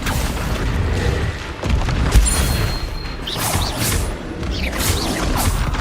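A Confringo fire spell from the Hogwarts Legacy video game bursts out loudly with a booming, crashing blast, followed by whooshing magical effects layered over a dense game soundscape.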